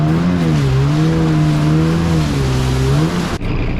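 A 1995 Kawasaki jet ski engine running on the water near shallow rocks and cliffs, a loud close droning whine with pitch wavering slightly, then cutting off abruptly near the end.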